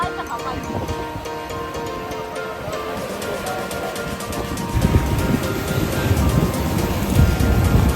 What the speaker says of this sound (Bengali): ঢেউটা দেখো মানে এতটা বিশাল বিশাল ঢেউ আসছে